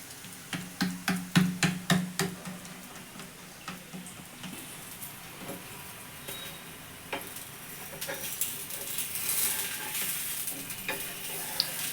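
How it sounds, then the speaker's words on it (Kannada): Ragi roti cooking on a clay griddle gives off a soft sizzle, with a run of sharp rhythmic pats and taps early on, then a steady faint crackle building gently toward the end. "ಒಂದು ರಾಗಿ ರೊಟ್ಟಿ ಬೇಯ್ತಾ ಇದೆ ಹೆಂಚು ಮೇಲೆ"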